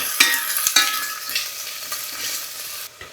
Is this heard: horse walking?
no